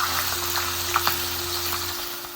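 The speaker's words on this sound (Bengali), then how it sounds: "এপাশ ওপাশ করে মাথাগুলোকে ভালো মতন ভেজে নিব।" Fish heads fry in a pan with a steady, close sizzle and a couple of soft pops, no voices.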